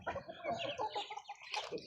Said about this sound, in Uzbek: Anjon qora xo'rozimiz ham bor bitta.